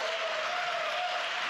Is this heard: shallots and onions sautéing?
no